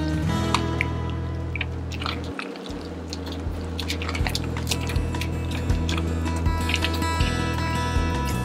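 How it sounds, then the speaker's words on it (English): Thick Caribbean split pea soup being stirred in a pot, giving soft wet squishing and sloshing sounds with small drips, steady and close throughout with a low hum underneath. "I'm going to stir it up."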